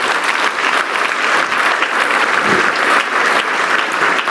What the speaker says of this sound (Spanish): Le das un aplauso a este Dios precioso y maravilloso.